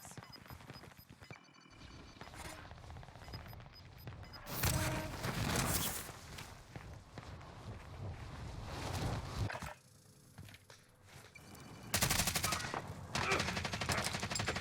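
Rapid automatic gunfire in Call of Duty Warzone, dense bursts of shots with louder volleys near the middle and end, mixed with game effects and a faint voice.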